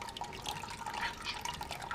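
Brown runoff water from beer wort drips and trickles steadily through a homebrew strainer into a vessel below, a close, continuous light patter with no talking.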